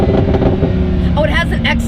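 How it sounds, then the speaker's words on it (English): A sports car's exhaust gives a loud, rumbling burble with crackly pops, heard close and continuous, while a person talks over it. "it has an excellent crackly burble"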